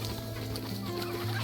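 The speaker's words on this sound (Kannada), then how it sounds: "ನೋಡಿ ಎಷ್ಟು ಕಲರ್ ವಿಧ ಕೋಳಿಗಳು." Several village (naati) chickens of mixed colours cluck on a farm with over 150 birds, a steady close chorus of clucks layered over a low constant hum, with no talking.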